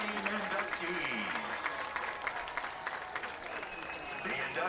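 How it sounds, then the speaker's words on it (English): Crowd at a high school football game honoring Hall of Fame inductees applauds and cheers, a broad wash of clapping under a busy, reverberant stadium background with voices and tones mixed in. "Let us give one more round of applause for our 2024 Flagler Palm Coast High School Hall of Fame inductees."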